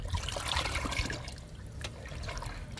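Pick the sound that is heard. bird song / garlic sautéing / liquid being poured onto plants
liquid being poured onto plants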